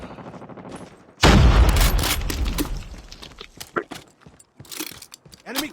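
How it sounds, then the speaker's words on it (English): A grenade blast in the Call of Duty Mobile game goes off as one loud, close burst, then rolls into rapid gunfire crackle and shouted callouts. "Grenade, run!"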